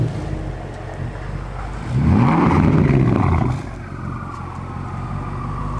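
A BMW F10 M5 with a full titanium resonated straight-pipe exhaust rises into a loud, throaty rev for about two seconds mid-clip, then settles back to a steady rumbling idle.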